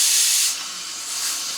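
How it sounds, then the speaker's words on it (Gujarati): A pressure cooker cooking urad dal vents a loud, close steam hiss, strong at first, then easing slightly before rising again in one sustained whistle. "અડદની દાળ બનાવી સીટી વાગી ગઈ છે."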